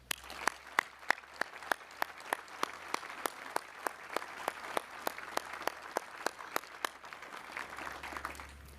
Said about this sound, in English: would you all join me in one more round of applause?